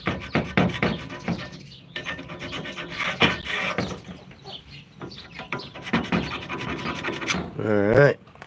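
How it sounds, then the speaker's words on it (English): A hand scraper scrapes across a surface during a repair job, producing repeated close, rough rasping strokes in an irregular rhythm, with a short squeaky sound near the end. "your scraper here, you scrape across"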